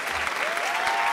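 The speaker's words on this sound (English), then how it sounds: "A round of applause for Simon, ladies and gentlemen." Applause from a show audience for a guest named Simon, a loud, continuous burst of clapping that stays even throughout, with a faint voice briefly running underneath.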